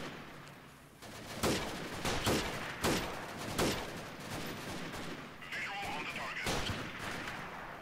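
Sharpshooter rifle firing during a town assault in Freeman: Guerrilla Warfare, several loud spaced cracks with echoing tails over a background of distant gunfire and battle noise.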